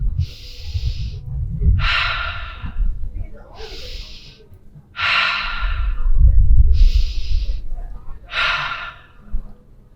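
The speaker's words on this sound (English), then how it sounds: "took 3 deep breaths in through her nose, out through her mouth" A person takes three slow, deep breaths, in through the nose and out through the mouth, for a calming mindfulness exercise. Each breath is close and airy, followed by a soft exhale in an even rhythm.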